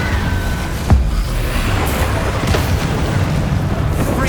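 A Confringo fire spell explodes with a short boom in Hogwarts Legacy, then a dense rumbling battle din continues with further scattered impacts.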